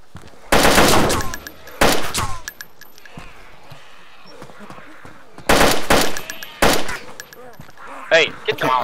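Gunfire in the video game DayZ, sharp loud bursts of rapid shots in several clusters separated by quieter gaps, with voices talking between them.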